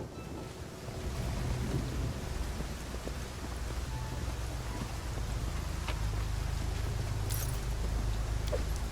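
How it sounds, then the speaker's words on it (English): Steady rain falls in the fantasy role-playing game Pathfinder: Kingmaker, a continuous hiss of drops on surfaces with low rumbling beneath and a few brief brighter ticks, with no speech. "Well, they are being rained on."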